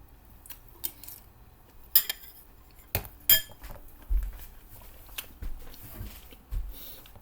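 Eating fries at close range: scattered soft bites and chewing crunches with occasional light clinks of cutlery or a dish, irregular and quiet, with no talking.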